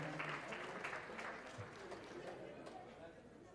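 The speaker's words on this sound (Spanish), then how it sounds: "El aplauso para ellos, por favor" Moderate, fairly distant applause at a university academic anniversary ceremony for top dentistry honor roll students, continuous clapping that slowly tapers, with crowd chatter and voices mixed in.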